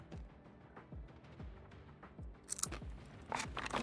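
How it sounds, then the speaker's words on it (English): Someone munching crunchy food, with repeated crisp bites and chewing crunches at a steady rhythm, close and fairly quiet, a few sharper crackles near the end. "Can you hear me munching?"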